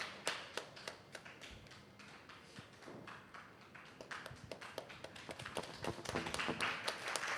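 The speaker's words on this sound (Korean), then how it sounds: "박수 해주세요." Scattered hand clapping from a small church youth group at a Sunday service birthday celebration, quiet and uneven at first, then building into denser, slightly louder applause toward the end.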